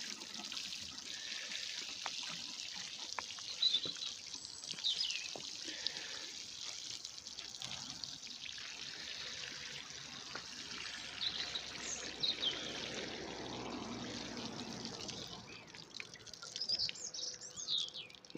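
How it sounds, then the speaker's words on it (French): Water pours and sprinkles steadily over a freshly sown radish seed bed in a vegetable garden, a continuous soft splashing hiss with birds calling faintly in the background and no talking. "l'arrosage aussi."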